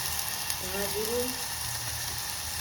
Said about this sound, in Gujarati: અહીંયા એકદમ ગરમ થઈ ગયું છે તેલ. રાઈ અને જીરું નાખ્યા છે મેં.